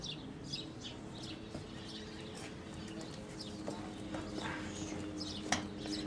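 Mule hooves clip-clop at an outdoor spot, a soft, irregular beat of steps heard at a distance over steady background noise, with birds chirping around them.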